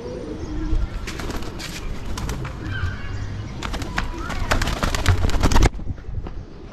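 Pigeons coo in a loft while a person tries to catch them, with scattered wing flaps and clattering bursts over steady low murmuring, fairly close.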